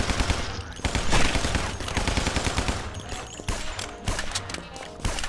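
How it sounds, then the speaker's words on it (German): Gunfire in the video game Guns, Gore and Cannoli: loud rapid bursts of shots, machine-gun rattles and single cracks, with crashes mixed in, continuous throughout. "Der Schuss war echt cool."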